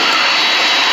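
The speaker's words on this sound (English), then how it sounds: "The engine's rolled back" Jet engine of a Boeing 767 winding down during an engine rollback on takeoff, a loud, steady broadband roar with a high whine, heard close and alone with no talk.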